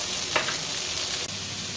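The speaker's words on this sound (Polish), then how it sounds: "Paprykę i znowu razem wszystko smażymy." Chopped onion and bell pepper frying together in a pot, a steady close sizzle with brief stirring scrapes.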